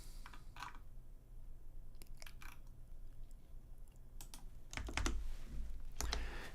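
Keyboard typing on a computer, bursts of clicking keystrokes close by, loose clusters with pauses between them and a few heavier thumps near the end, no talking.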